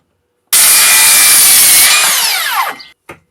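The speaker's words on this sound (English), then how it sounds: "It's what I call a standard size circular saw, 184mm, 7 1/4 inch." A Makita 36V cordless circular saw with a 184 mm (7 1/4 inch) blade rips through wood in one loud, close cut of about two seconds, then the motor winds down, followed by a short clatter.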